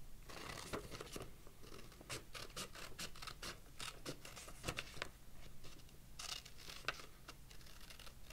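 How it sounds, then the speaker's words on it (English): Scissors snipping through paper to cut out a circle for a craft, with repeated close, quiet scratchy cuts in an uneven rhythm and short pauses, no voices. "you're just going to want to go ahead and cut it out so that you have a circle."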